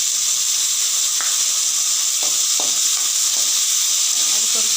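Ginger garlic paste, about a spoonful, sizzles steadily as it fries in a hot pan for a jackfruit-seed and potato curry, with a continuous loud hiss and a few brief stirring clicks over it.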